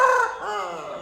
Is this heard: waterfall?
no